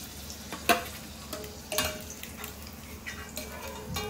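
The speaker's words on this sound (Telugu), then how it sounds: "నేనైతే ఎప్పుడు ములక్కాయ వండినా సరే ఖచ్చితంగా ఆయిల్లో ఫ్రై చేస్తాను" Drumstick pieces (moringa pods) frying in oil in a home kitchen pan, a steady soft sizzle broken by a few sharp clatters of stirring and utensil knocks.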